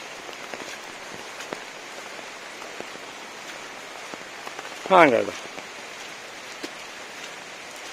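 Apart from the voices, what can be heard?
monsoon rain falling on plantation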